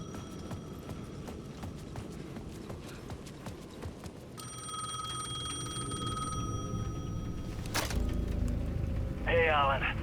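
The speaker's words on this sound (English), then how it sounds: "The payphone at the edge of the plaza was ringing again." A payphone at the edge of a plaza in the video game Alan Wake 2 rings in short electronic bursts over steady footsteps and a low ambient bed, with a warbling trill near the end.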